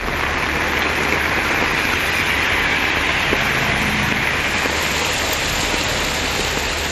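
Heavy rain pours steadily across a Tamil Nadu landscape, a loud, dense, unbroken hiss with no pauses and no voices.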